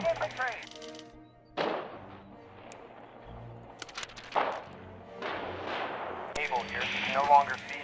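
Gunfire from barrels at approaching infantry in the Radio General war game, with sharp distant shots and booming bursts recurring irregularly under an ongoing radio voice.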